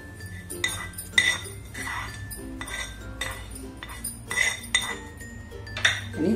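A metal spoon mixes gopalkala made with curd and a fresh tempering in a bowl, giving intermittent close clinks and scrapes over a faint steady hum.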